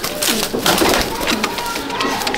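In a home loft in Icchapur, Kamagar pigeons keep up a thick, overlapping cooing chorus at close range, a busy, constant flutter of low rolling calls.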